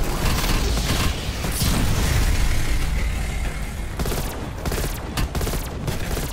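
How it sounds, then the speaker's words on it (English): Dense, continuous gunfire in Call of Duty Black Ops Cold War during an Outbreak zombies boss fight, a loud unbroken barrage blended with booming game effects, thinning slightly near the end. "Alright, just keep shooting."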